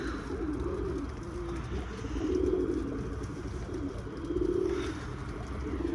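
Pigeons cooing inside a coop, with three swelling coo phrases rising and falling in turn over a steady low background hum, nearby and fairly soft, no voices.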